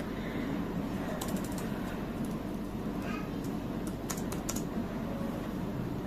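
Quick clusters of clicks from fingers on a computer keyboard, a short key combination pressed over a steady hum of room noise, close and fairly quiet, with no talking.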